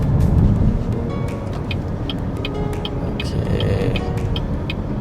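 A BYD Sealion 6 DM-i SUV driving in all-electric mode, giving a steady broadband rumble of road and tyre noise from inside the cabin, with faint scattered ticks and clicks over the top and no voices.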